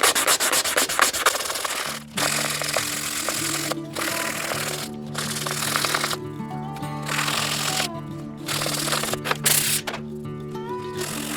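Steady abrasive rasping of a utility knife handle built from glued colour pencils being sanded by hand, continuous scratchy friction with a low steady hum underneath and brief pauses, close and fairly loud with no talking.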